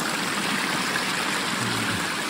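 A small creek beside a hiking trail flows steadily, a close, continuous wash of rushing and trickling water with no voices.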